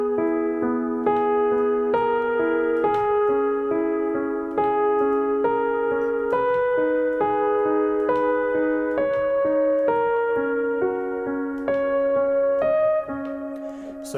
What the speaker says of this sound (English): there's a lead line on the CP80